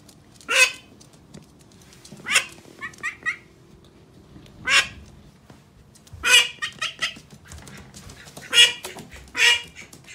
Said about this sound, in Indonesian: bebek ya guys.